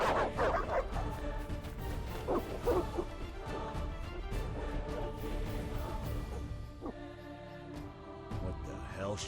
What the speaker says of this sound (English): What are those dogs doing?